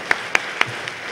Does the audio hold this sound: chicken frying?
no